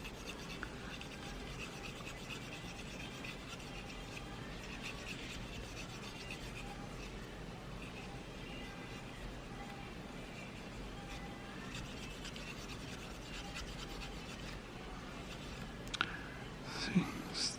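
Cleaning tool rubbing and scraping steadily inside an FN 5.7x28 pistol, a continuous close rasping scrub with a few sharper clicks near the end.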